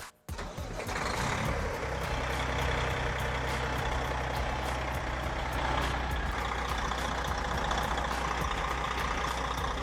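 A Detroit diesel truck engine catches almost at once and settles into a loud, steady idle with a deep rumble that holds without a break.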